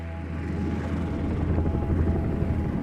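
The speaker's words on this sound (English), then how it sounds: "it's this helicopter, this red helicopter, coming towards me." A red rescue helicopter's steady rotor thump and engine rumble, continuous and fairly loud, building slightly as it draws nearer over mountain terrain.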